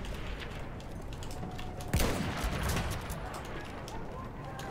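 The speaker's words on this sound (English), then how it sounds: "That's an enemy gun." Enemy gunfire in the shooter game Battlefield 1 crackles at a distance, with one sharper report standing out from a busy backdrop of smaller shots and battlefield noise.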